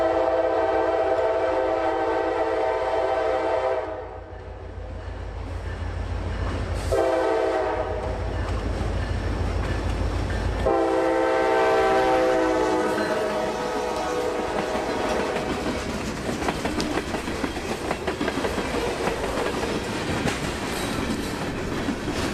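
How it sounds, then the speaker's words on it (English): A local freight train on the Tampa S-Line sounds its horn in long, loud blasts up close, then the rumble and clatter of the passing cars carries on steadily. "L791 notches up his train before turning south at Oldsmar for Safety Harbor, Largo, Clearwater,"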